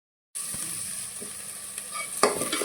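Onions and tomatoes sautéing in a pan for chicken white, a close, bright sizzle that starts abruptly after a moment of silence and continues steadily, with a few light stirring scrapes and no voices.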